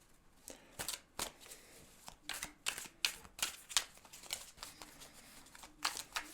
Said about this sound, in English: Now I'm just kind of giving the deck some shuffle here.